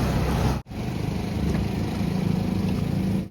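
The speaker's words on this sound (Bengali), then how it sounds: "এয়ারপোর্ট যাওয়ার জন্য গাড়ি দিয়ে দিয়েছে, সেই গাড়িটা এসছে।" An Isuzu car's engine running as it arrives for an airport trip, a loud steady drone close by, broken by a brief cutoff before continuing evenly.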